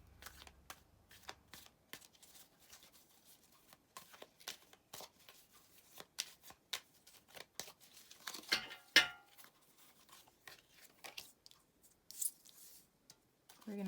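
Tarot cards are shuffled by hand in quick, irregular riffles and slaps, soft and close, with a few louder flicks and gaps between bursts.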